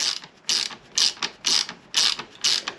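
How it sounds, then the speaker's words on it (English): A ratchet on an Allen key turns the mount bolt on a Triumph Street Twin 900 motorcycle. It makes six evenly spaced bursts of close, crisp clicking ratchet strokes with short gaps between them. "what we're using here is a ratchet on an Allen key"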